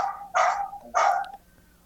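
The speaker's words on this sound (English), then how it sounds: "We got a dog somewhere." A dog barks twice in quick succession, fairly close and moderately loud, with a brief quiet tail after the second bark and no talking over it.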